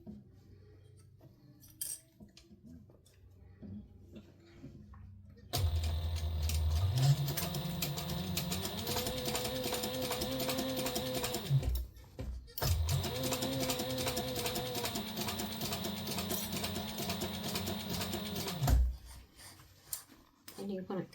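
A sewing machine stitching a zipper pouch runs in two long continuous bursts of rapid, even needle chatter, with a brief pause between them and quiet handling noises before and after.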